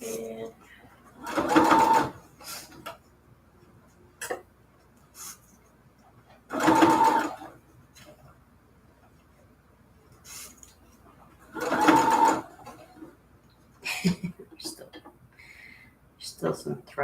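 A sewing machine stitching through a fabric junk journal runs in three short bursts of about a second each, separated by pauses with small clicks and handling noises, close and clear.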